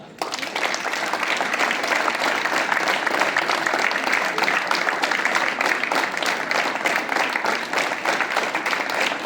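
Students clap together at a morning school assembly during a drill, a loud, continuous crowd of hands clapping steadily throughout, heard up close with no pauses.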